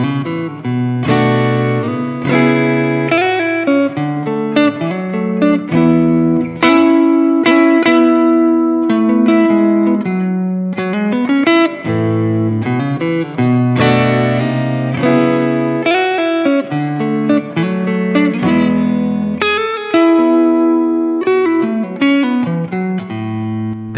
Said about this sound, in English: he's adding a tone press to add headroom and sustain.